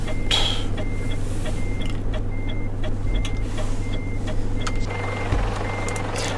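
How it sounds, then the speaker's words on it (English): A big red lorry reverses a big white trailer, its reversing alarm giving steady, evenly spaced beeps over a constant low engine rumble close by on a roadside. "Like big red lorry reversing a big white trailer with shiny wheels"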